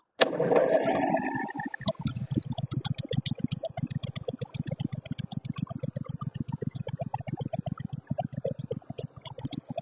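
A Briggs & Stratton lawn tractor engine cranks with a brief rough burst, then catches and settles into a steady, even idle of rapid regular thumping pulses, close and alone with no talking.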